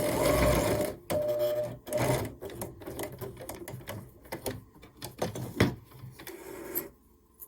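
A sewing machine stitches binding ribbon onto a small Christmas tree quilt in quick mechanical bursts, starting and stopping several times, close and fairly quiet, with a few pauses between runs.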